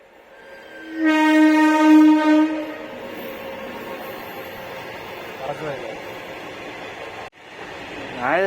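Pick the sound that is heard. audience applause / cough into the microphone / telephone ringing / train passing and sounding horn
train passing and sounding horn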